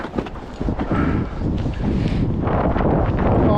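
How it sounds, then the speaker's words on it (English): Strong wind buffeting a riverbank while fishing on the Ribble, a steady roaring rumble close to the microphone that carries on through the whole stretch with no talk over it. "It's too windy."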